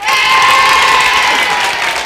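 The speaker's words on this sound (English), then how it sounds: "Give yourselves a round of applause." Cub Scout Pack 155 from the Baptist School Church in Natalbany cheers and applauds loudly as a studio audience at a Thanksgiving family game night, a dense steady roar of clapping and shouting voices.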